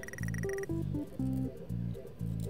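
Happy Frog, an animatronic in the video game FNAF 6, croaks in a repeating pattern: short, buzzy, tonal croak bursts in a steady rhythm, fairly loud and close, with no talking.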